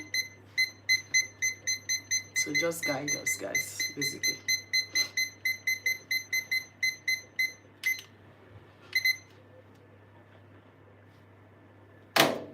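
An oven timer alarm beeps in a rapid, steady repeating pattern for several seconds, stops, then gives a couple of short bursts, with a voice speaking briefly over it in a kitchen.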